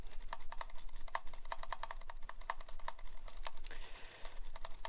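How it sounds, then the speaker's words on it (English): Rapid clicking while playing Cookie Clicker, a dense, steady stream of quick mouse or key clicks running throughout, close and fairly loud, with no talk. "Let's go into overdrive clicking mode once again"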